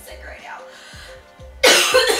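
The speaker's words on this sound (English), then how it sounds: "I just had a major cough attack" A sick person coughs in a short, harsh burst after faint breathy throat sounds, the loud cough close to the microphone and alone.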